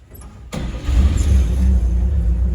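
A 1957 Chevy truck's old 235 inline-six fires up after a brief quiet moment, then settles into a loud, steady, rumbling idle close by with no talking.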